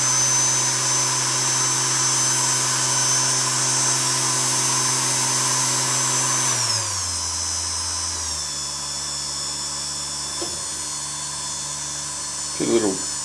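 A Tm benchtop polisher with variable speed runs at full RPM with a loud, steady, high motor whine. The pitch then drops in two clear steps as it slows, with faint clicks near the end.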